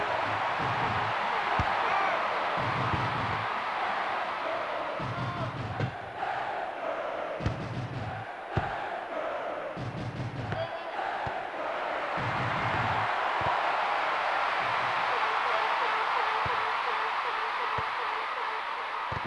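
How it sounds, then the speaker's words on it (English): A stadium crowd roars and cheers after a tackle in the N64 video game FIFA Soccer 64, a swelling, uneven crowd din with thuds of play running throughout. "Oh, the crowd enjoyed that tackle."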